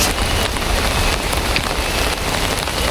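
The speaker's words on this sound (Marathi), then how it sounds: "आणि अशा तऱ्हेने मस्तपैकी पाऊस आलेला आहे" A monsoon shower pouring down in a village, with dense, steady hissing rain on surfaces filling the whole stretch, close and loud, with no voices.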